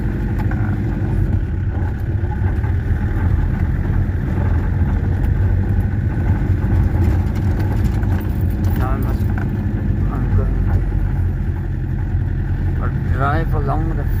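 A Peugeot 404 with an XD3 diesel engine drives along a farm field, its steady low engine drone and rumble continuous and close throughout, with a voice talking over it.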